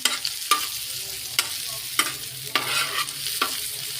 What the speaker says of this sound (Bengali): পেঁয়াজগুলোকে আমি ভেজে নিচ্ছি সুন্দর করে দেখেন